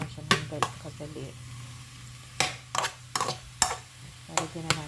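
Pork fries in its own rendered fat for pochero, giving a soft crackling sizzle with sharp spatter pops and utensil clicks scattered throughout.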